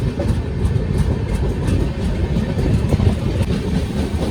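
Superfast express train rolling on rails out of Mathura Junction toward the Kasganj line, a steady close rumble with dense low clatter from the wheels and coaches, loud and continuous throughout with no talking.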